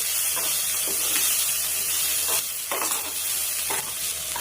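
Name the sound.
stirring curry in a pan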